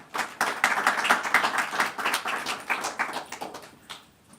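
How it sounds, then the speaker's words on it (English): An audience at an education forum in Tallinn claps briskly in a dense burst of applause that swells, then thins and fades out within a few seconds. "Applause."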